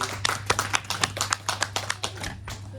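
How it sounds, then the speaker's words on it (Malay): Students in a classroom clap together for a few seconds, an uneven patter of hand claps over a steady background hum. "Tepuk tangan kat terima kasih."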